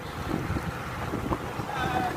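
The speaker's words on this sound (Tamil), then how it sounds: "இப்படி ஒரு சூறாவளி காற்று சொல்லிட்டு அடிக்குது" Strong whirlwind gusting across an open ground opposite a college in Thanjavur, a steady roaring buffet of wind noise that swells and surges throughout, with faint voices underneath.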